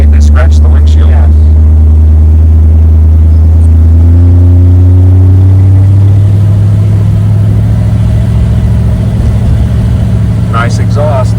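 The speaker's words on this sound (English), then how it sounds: "Nice exhaust. Yes. Nice throaty sound." A 1956 Ford Thunderbird runs nearby with a throaty exhaust, a loud steady rumble whose pitch climbs as the engine revs, with brief voices at the start and end.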